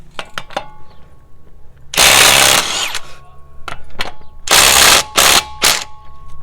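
A Ryobi P239 brushless impact driver works on lug nuts in loud, rattling hammering bursts, a long one and several shorter ones, separated by quieter clicks and handling noises.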